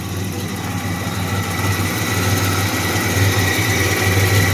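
A running 1985 Pontiac Firebird engine idles steadily up close, with a constant low hum and a whining, whirring alternator tone layered on top.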